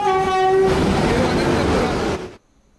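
The Veraval Express passenger train sounds a loud horn as it arrives, then rolls past with a close, heavy rumble of wagons before the noise cuts off abruptly.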